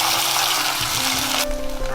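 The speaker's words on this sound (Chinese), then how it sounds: "把炒好的鸭肉倒进来" Stir-fried duck meat hits a heated clay pot with a loud, steady sizzle and frying hiss, continuous through the moment with a brief change partway as the pour finishes.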